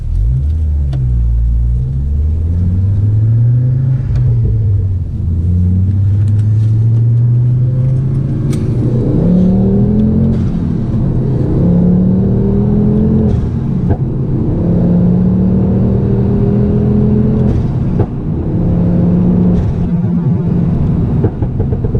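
A Mk2 Ford Focus ST with a cracked liner and turbo problems is driven hard, its engine loud and close as it revs up repeatedly through the gears, each rising pull followed by a drop before the next climb.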